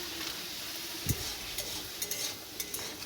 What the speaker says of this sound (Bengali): টমেটো কাজু বাদাম তারপর কাঁচা লঙ্কা একসঙ্গে ভাজা ভাজা করে নিচ্ছি